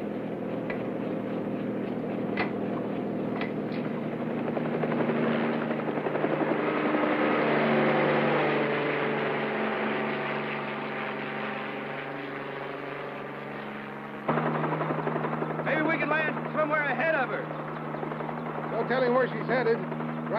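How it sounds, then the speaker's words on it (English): A helicopter, used in a search near a blast area, drones steadily and fairly close for the whole span, with a slow rhythmic rotor pulse and a shift in tone partway through, under background talk. "let's take the chopper."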